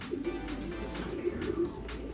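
Racing pigeons coo softly and continuously nearby, low rounded calls repeating over a faint background hum.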